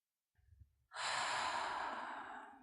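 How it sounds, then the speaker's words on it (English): A single deep breath, a faint short sniff followed by a long, loud, close exhale of airy breath that gently fades away. "Take a really deep breath."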